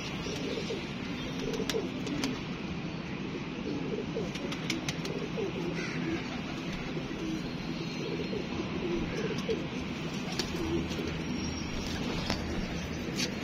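Pigeons coo softly and steadily in a continuous low murmur, many birds close together, with occasional flutters and faint chirps over a constant background hum.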